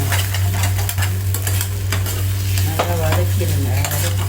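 Cooked rice is stirred into a mango rice mixture in a pan, a steady scraping and stirring with a low hum beneath and faint sizzling, continuous and close with no talk.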